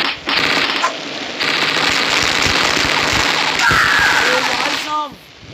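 A big gun firing in the mobile game Mini Militia: dense, rapid bursts of loud crackling shots run for several seconds, then stop with a brief ringing tail.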